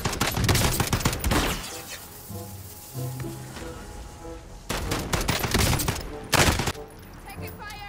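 Bursts of automatic gunfire in the video game Modern Warfare Warzone, loud rapid volleys early and again near the end with quieter shots and game effects between.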